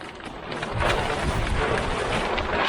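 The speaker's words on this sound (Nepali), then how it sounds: "हावा त निकै चल्दो रहेछ है" Strong wind sweeps across a hilltop near a stupa outside Kathmandu, a steady, close, rumbling roar buffeting the microphone with no voices.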